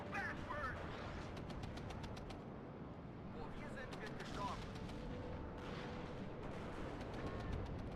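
In the video game WARNO, cluster munitions burst in a rapid, crackling string of explosions and booms, dense and continuous, with sharp bursts scattered through the barrage.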